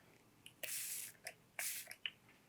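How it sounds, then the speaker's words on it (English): Two short bursts of makeup setting spray hiss onto a brush close by, each about half a second long, with small clicks and drips between them. "I'm going to mist the shimmer on the brush with my setting spray."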